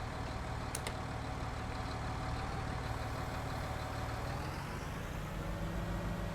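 Tractor engine running steadily in Farming Simulator 19, a constant mid-pitched rumble that shifts slightly in tone toward the end, with no talking.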